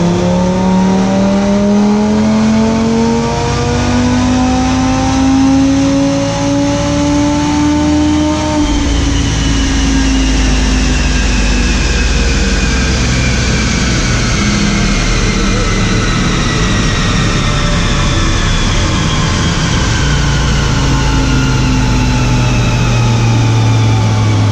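A Porsche Carrera T strapped to a Mustang chassis dyno roars loud and close through sustained full-throttle pulls, its engine pitch climbing steadily, then dropping and rising again, with no voices.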